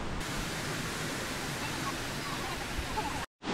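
A waterfall on Ulleungdo island, Bongnae Falls, sends up a steady broadband roar of rushing water that stays even and fairly loud, then cuts off abruptly near the end.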